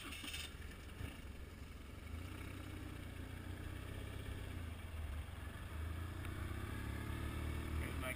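A motorcycle engine idles and runs steadily at a practice area set up for swerving and braking drills, a low continuous hum that builds slightly toward the end, with no talking.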